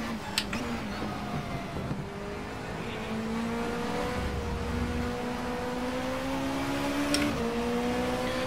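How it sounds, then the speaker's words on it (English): Race car engine in the Race 07 WTCC 07 video game at Valencia, a steady droning tone that climbs slowly in pitch, broken by a few sharp gear-change clicks and drops, heard alone and close. "Might just sit here and listen to the engine for a while"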